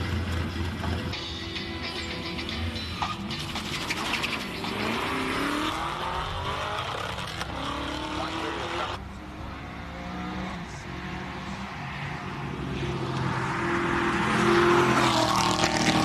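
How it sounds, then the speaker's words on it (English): A hill-climb race car with a 7-litre Chevy engine roars continuously nearby, its engine pitch sweeping and shifting as it accelerates up the course, then the sound fades a little and swells again. "Mike Verrier he's got a Chevy IS7, 7 litre in the back of that, which clearly must sit right next to his head"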